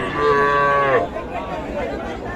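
A single loud cow moo rings out nearby for about a second at a livestock market selling young calves, followed by a murmur of distant crowd noise.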